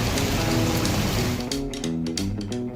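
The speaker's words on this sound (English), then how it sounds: "It's raining outside." Steady rain falls outside, a continuous close hiss of drops that thins slightly partway through, with faint tonal music underneath.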